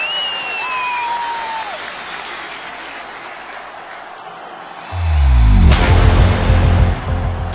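Audience applause at a televised event in Kunduz, steady clapping at first, then a heavy low rumble and bang-like burst swell in partway, with the clapping continuing under it to the end.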